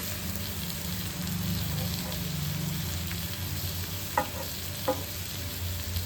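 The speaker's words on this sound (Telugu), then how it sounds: "ఇలా వేగిన తర్వాత మళ్ళీ బాగా అలాగా మధ్య మధ్యలో ఇలా కలుపుతా ఉండాలండి తిరగేస్తా నలిగేస్తా ఉండాలండి" Koramenu fish frying in a pan while being stirred and turned, a steady low sizzle throughout with a couple of brief scraping knocks near the end, close and moderately loud, no talking.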